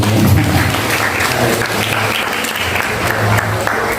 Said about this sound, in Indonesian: Oke, tepuk tangannya dulu dong.